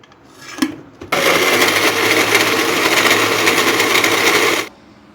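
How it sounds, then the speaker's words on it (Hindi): Electric blender grinding tomatoes and green chillies, a loud steady whirring run of about three and a half seconds, starting abruptly after a brief knock and cutting off cleanly. "ये हम टमाटर ग्राइंड कर रहे हैं और सब्ज़ मिर्ची भी इसमें डाल देंगे।"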